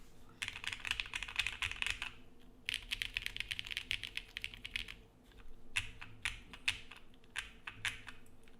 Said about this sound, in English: GMK keycap, so the sound might be different. So this is using the GMK, and this one is using the mono K